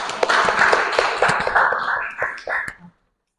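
Applause from a classroom audience for a presenting student group at a university teaching session, many overlapping claps forming a dense, fairly loud burst that thins into a few last claps and then stops abruptly.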